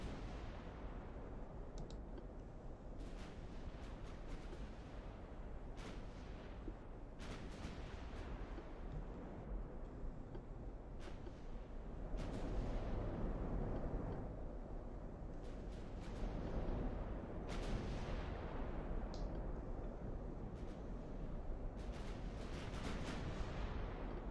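Heavy cruisers firing naval guns in the game Ultimate Admiral: Dreadnoughts, repeated booming salvos with sharp cracks over a continuous deep rumble, irregularly spaced and fairly loud throughout.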